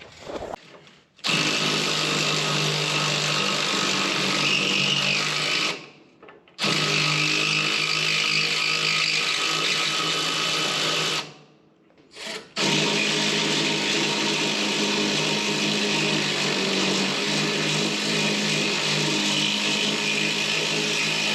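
Long bolts come out of a truck's fuel tank bracket, driven by a power tool that whirs in three long, loud, steady runs separated by brief pauses.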